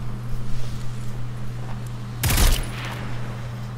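A short, sharp burst of rapid gunfire from the video game Destiny 2, loud and close for a moment over a steady low hum of game ambience.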